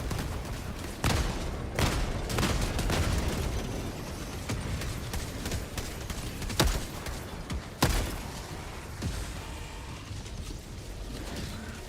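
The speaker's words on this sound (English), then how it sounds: "The mortars are kind of going crazy." Mortar explosions in a video game, a string of sharp booming impacts spaced irregularly across the clip, with rumbling mechanical battle noise between them.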